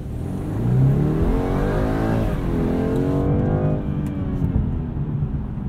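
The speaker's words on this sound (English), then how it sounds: "Doesn't sound bad, but it's still just a four-cylinder engine" A 2022 BMW 230i Coupe four-cylinder engine revs up and down steadily, rising in pitch then easing off, close and fairly loud with no talking.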